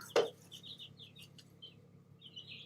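Small backyard chickens making soft, scattered clucks and chirps, with one sharper louder call near the start, then quieter peeps at close range with no talking.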